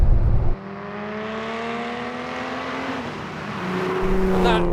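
A Rindt 964 RSR Porsche 911 restomod drives along a road, its engine humming steadily with a clear tonal drone that climbs slightly in pitch as it accelerates toward the end, close and moderately loud.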